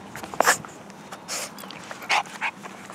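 A dog whimpers in short high whines with soft panting breaths between them, close by, a few separate bursts over a quiet background.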